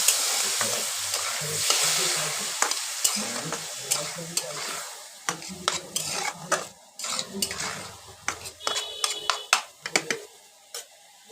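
Chickpeas and peas stir-fry with a little water in a pan for a Bengali banana-flower dish. A spatula scrapes and clacks against the pan again and again over a steady sizzle, close and fairly loud.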